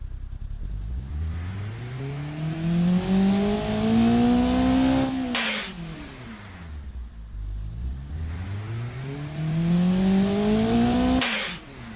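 A modified, lightly muffled hardcore track car engine and exhaust in the Automation game revs up twice, each time rising smoothly from a low rumble to a loud, high wail before dropping back.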